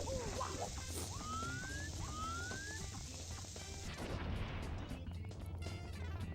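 Cannonballs roll along a path in the Super Mario 64 video game, heard as quiet game effects with low rumbling, a few sharp crashing hits and short rising synthetic tones.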